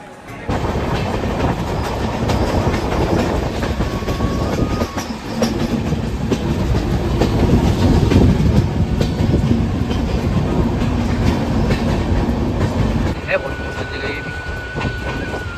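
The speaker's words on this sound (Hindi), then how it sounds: "तो ये रेलवे स्टेशन है सायरंग का, ये है सायरंग रेलवे स्टेशन।" A moving train near Sairang railway station in Mizoram, a loud, continuous rumble with rattling carriages and clickety-clack from the wheels throughout, a faint tone near the end, and talking underneath.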